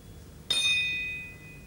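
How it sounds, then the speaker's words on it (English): A single bright metallic strike on copper pipes rings out clearly, its tone lingering and slowly fading over the following second. "And Linda is making loud sounds on the copper pipes."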